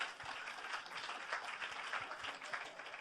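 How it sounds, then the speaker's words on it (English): A Los Angeles studio audience at a Grammy Museum Q&A claps in a steady, fairly quiet wash of applause, with no voices over it. "So you all deserve a round of applause as well for doing that."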